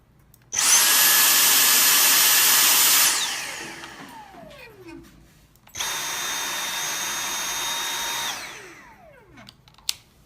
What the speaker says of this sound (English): run the D6 first on regular